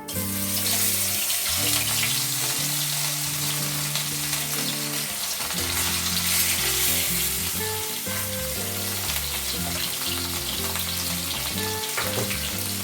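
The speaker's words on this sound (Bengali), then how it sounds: "তেল গরম হয়ে গেছে, এবার আমি মাছ দিয়ে দিচ্ছি।" Rohu fish pieces frying in hot mustard oil in a pan, a loud, dense, continuous crackling sizzle heard close up throughout, with no talk.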